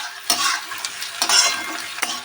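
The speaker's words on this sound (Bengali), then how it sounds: "ওই পেঁয়াজ টমেটোকে আমি কিছুক্ষণ ফ্রাই করবো যতক্ষণ না পেঁয়াজটা একটু রেজেক্ট হয়ে ফ্রাই হবে আর টমেটোটা গলে আসবে" Onion and tomato frying in a pan for a water spinach and jackfruit seed dish, with a bright hissing sizzle broken by three loud bursts of stirring and scraping, close up and with no voices.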